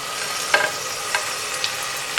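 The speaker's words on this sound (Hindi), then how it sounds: "इसमें टमाटर शामिल कर दें और इसको मिक्स करें अच्छी तरह" Tomatoes go into a frying chickpea curry base, making a steady soft sizzle broken by about four sharp scrapes of a spoon against the pan.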